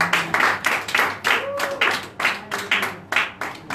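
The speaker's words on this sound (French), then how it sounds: "on acclame pour le Seigneur, s'il vous plaît" A church congregation claps in rhythmic bursts, loud and close, with faint tonal voices or music under the steady beat of hands.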